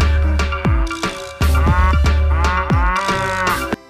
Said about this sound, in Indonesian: di sini ada hewan sapi